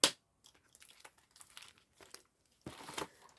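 Paper budget envelopes crinkle and rustle as banknotes are pulled out of them. Close, crisp crumpling comes in irregular handling bursts, starting with a sharp snap and ending in a louder stretch of rustling.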